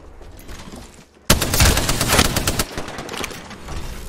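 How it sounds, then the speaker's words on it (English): Bursts of gunfire in the video game Apex Legends, a quieter stretch giving way to loud, sustained rapid automatic fire that rattles on close and dense. "looks like the last one of them opening fire on the enemy"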